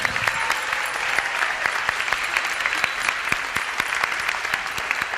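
A high school theater audience claps steadily for several seconds after a Peter Pan performance, a dense, even round of applause with no voices over it.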